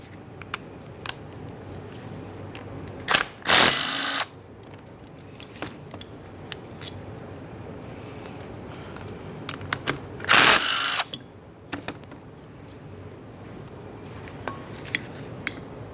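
A power tool or impact driver removes the 13mm caliper mounting bolts on a Ford F-150's rear brakes, in two short loud bursts a few seconds apart, with quiet clicks and handling noises in between.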